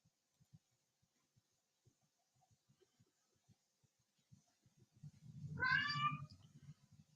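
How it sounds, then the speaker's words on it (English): A cat lets out a drawn-out, rising meow near the end, preceded by soft scattered taps and light rustling. "That's the cat"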